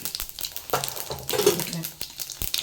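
Mustard seeds, cumin and fenugreek frying in hot oil for a dried-fish thokku give close, light crackling and popping with small irregular bursts over a soft sizzle, and a voice now and then.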